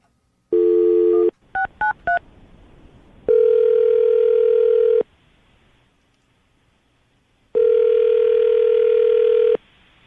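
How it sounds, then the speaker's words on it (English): A telephone plays a steady dial tone, then a quick burst of several keypad dialing beeps, followed by two long stretches of ringback tone separated by silence, all clear and close. "Nick, I'm going to dial the phone number, see if we can get her on the phone"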